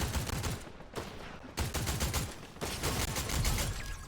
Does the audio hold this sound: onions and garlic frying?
no